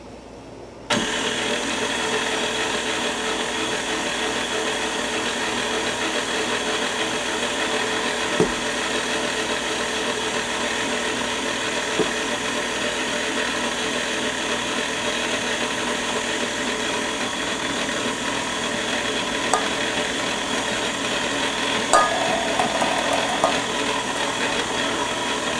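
An electric mixer blends two cups of flour into spritz cookie dough with almonds still to come, a loud, steady motor whir running unbroken for nearly half a minute, with a few faint clicks and no voices.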